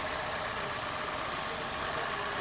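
A car's original petrol engine, never converted to CNG, idles with a steady, even hum and light mechanical clatter; it is close and continuous, with no talk over it.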